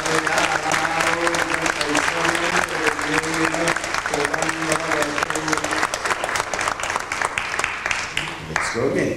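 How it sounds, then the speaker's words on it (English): Wedding guests at a 1998 Indian wedding ceremony applaud in sustained, dense clapping close by, while a musical tone and a speaking voice carry on underneath. "we can applaud when this happens."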